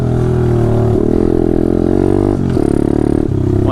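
A pit bike engine revs hard and close on a wooded trail, holding high with a strained buzz that drops and climbs again in several surges, with clattery mechanical noise underneath.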